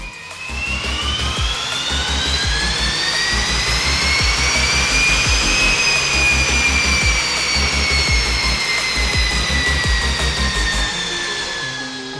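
A VW Golf R Mk8 fitted with a Milltek exhaust and K&N filter roars steadily through a power run, a loud sustained engine drone rising in pitch toward the middle and easing off at the end, with no talk over it.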